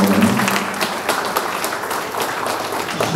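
An audience at a Dărmănești ceremony honouring couples married fifty years applauds steadily, with dense, close clapping filling the whole stretch and a brief voice near the start.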